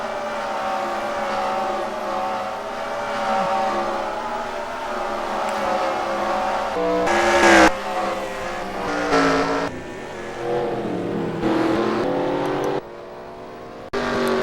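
Race trucks roar through the final turn and front stretch at Sears Point in a Truck Series racing video game, with continuous engine drone, shifting pitch and brief louder passes, no talking.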